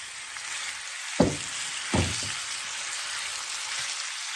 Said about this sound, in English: And we're going to sear it.